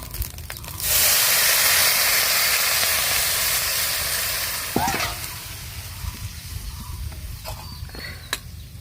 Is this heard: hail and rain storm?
no